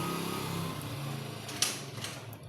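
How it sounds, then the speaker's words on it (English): A noisy motorcycle passing outdoors, its low steady engine drone rolling along at moderate distance, with a brief sharp knock partway through and no voices. "a noisy motorcycle"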